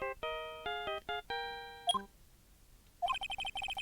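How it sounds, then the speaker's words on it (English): A phone ringtone playing the Steel Samurai theme from the Phoenix Wright: Ace Attorney game: bright electronic melody notes in a quick sequence, a short pause, then a rapid trilling electronic ring. "I know that song on your phone plays when it rings."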